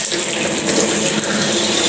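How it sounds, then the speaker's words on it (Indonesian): Water poured steadily over built-up ice in a single-door fridge's freezer compartment, a continuous close splashing gush with no break. "Kita siram saja terus, lama-lama juga akan lepas."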